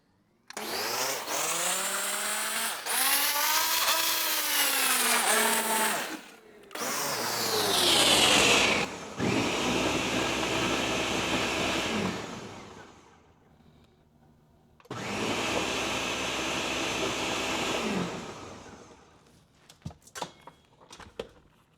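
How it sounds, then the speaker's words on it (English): A kitchen blender whirs loudly as it blends an egg bite mixture, running in long sustained bursts with a short pause and pitch shifts, then stopping briefly before another steady blending run, ending with a few faint clicks. "we're ready to blend"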